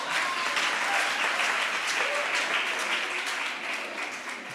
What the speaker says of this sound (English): You may clap for me.